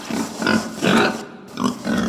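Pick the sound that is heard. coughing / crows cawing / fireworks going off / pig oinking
pig oinking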